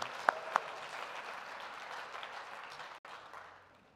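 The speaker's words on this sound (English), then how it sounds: "Let's give them a round of applause" An audience at the Matthew Goniwe 10th Annual Memorial Lecture applauds in an evening hall, steady clapping at moderate level that fades toward the end, with a couple of sharp nearby claps near the start.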